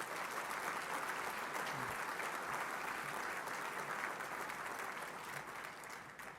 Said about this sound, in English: Let's have a round of applause for them as well.